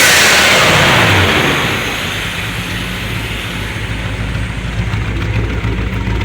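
A slant six truck engine idles steadily, with a close, loud, even rumble. A brief higher rev at the start settles into a smooth, constant idle with no misses, and there is no talk.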